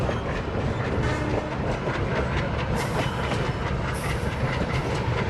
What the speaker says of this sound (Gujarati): આપણી ટ્રેન સ્ટાર્ટ થઈ ગઈ છે